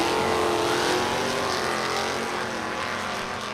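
Drag race cars roar at full throttle, a '72 Plymouth Duster and a '70 Chevelle, their engines a loud, dense, continuous blare that stays steady throughout.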